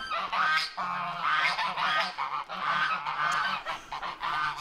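Several geese honk repeatedly in overlapping, nasal calls, moderately close, with a steady back-and-forth rhythm and no talking.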